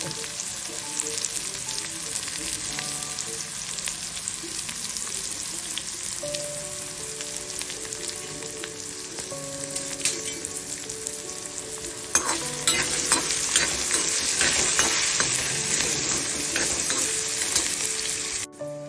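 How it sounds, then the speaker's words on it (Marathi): Onion and potato fry in a pan for a traditional Marathi rice dish, a loud continuous sizzle with stirring scrapes that grows busier in the second half. "पूड झालं की कांदा आणि बटाटा आता त्याच्यावरती भाजून घ्यायचा तळून घ्यायचा"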